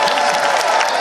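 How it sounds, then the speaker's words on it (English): A large convention crowd at the Anthrocon 2024 ceremony applauds for the staff, a dense, steady wash of clapping filling the hall with faint cheering mixed in. "I would like to hear a big round of applause for every staff member"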